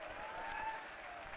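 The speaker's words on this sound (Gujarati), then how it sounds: "એક વાત જોરથી તાળીઓ" Applause from an audience at a public gathering in Ahmedabad, a short burst of steady clapping heard fairly faintly from a distance, without talk over it.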